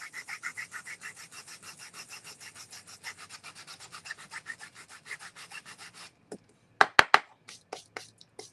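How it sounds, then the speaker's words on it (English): Rapid back-and-forth rubbing of sandpaper on a painted wooden jam jar, quiet and close with an even rhythm for about six seconds, followed by a pause and a few sharper, louder scrapes. "It'll also make it easier to cover this if we can sand some of this off."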